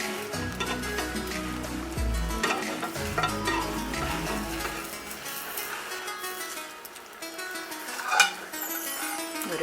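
A chapati with egg sizzles and fries steadily in a hot pan, with a low stirring, scraping sound and a soft clink near the end.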